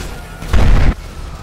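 A bomb exploding in GTA 5, a single loud, deep booming burst lasting under half a second, standing out over quiet game background.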